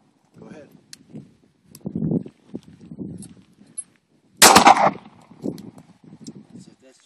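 A single sharp, loud pistol crack at an outdoor range stands out amid stretches of low, muffled talk from people nearby.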